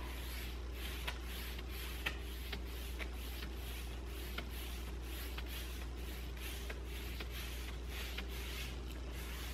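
A brush blends paint across a surface, giving soft, steady brushing and rubbing strokes in a quiet room, regular and close, with faint repeated swishes and no talk.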